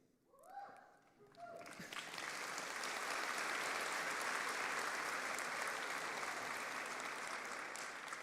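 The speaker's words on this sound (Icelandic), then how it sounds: "Það er sko í góðu lagi að klappa fyrir þeim" Graduation audience at a technical college ceremony in Harpa concert hall applauds the graduating students, a brief voice and tones at first, then a swelling, sustained roar of many hands clapping.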